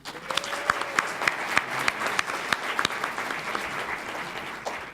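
A university audience claps in a sustained round of dense applause, loud and steady throughout with a few sharper claps standing out near the front.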